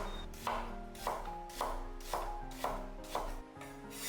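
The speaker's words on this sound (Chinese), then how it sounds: "再来准备半个洋葱，切成细丝" A knife slicing half an onion into thin strips on a board: six evenly spaced, crisp cutting strokes, each a sharp crunch followed by a brief thud, close and clear with no talking.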